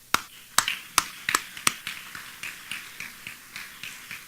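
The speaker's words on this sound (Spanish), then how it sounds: "También para ellos un fuertísimo aplauso." Sparse clapping at the closing plenary session of a parliamentary assembly: about a dozen sharp, evenly spaced claps, crisp and close at first, then softening as the rhythm slows.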